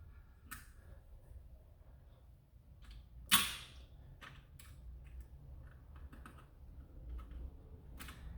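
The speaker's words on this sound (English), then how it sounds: "Use my X-Acto knife, clean this up." An X-Acto knife trims and cleans up a plastic Dart Zone Pro MKIII blaster part, making scattered small clicks and scrapes, with one sharper snap, close and quiet.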